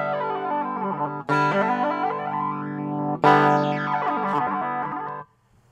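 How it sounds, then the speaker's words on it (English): A synth signal run through the flanger block of an AdrenaLinn Sync v2 effects unit, its harmonics sweeping up and down in a jet-like whoosh over two loud sustained notes, alone with no talk. "Then there's the flanger, and you know what that sounds like if you're a guitar player."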